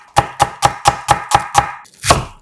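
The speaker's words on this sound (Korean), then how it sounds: "양파 반개는 살짝 굵게 채 썰고" A knife slices half an onion into thick strips on a cutting board, producing seven crisp, evenly spaced chops in quick rhythm followed by one heavier final cut, close and distinct.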